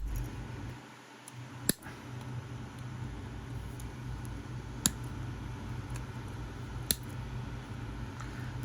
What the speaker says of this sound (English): it's best to go in and cut them as low as you can.